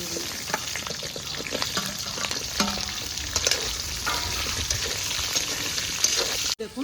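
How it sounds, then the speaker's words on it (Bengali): Pointed gourd (potol) frying in a pan, a close, steady hiss and crackle with a few stirring clatters, ending in a sudden knock. "পটলগুলা খুব সুন্দর ভাজা হয়ে গেছে"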